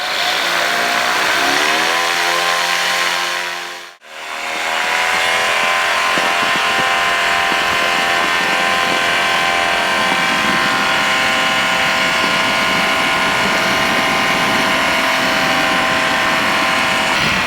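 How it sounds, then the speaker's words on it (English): A light aircraft engine, left unused for a while, sits loud and steady through a pre-takeoff power check at an airfield, cutting out briefly then roaring back with a sustained, rising drone. "Engine hasn't run for a while. Let's just do a quick power check."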